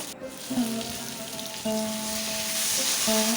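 Oil sizzling steadily as vegetables fry in a pan, with a constant crackling hiss and a few brief tonal clinks of utensils; no voices.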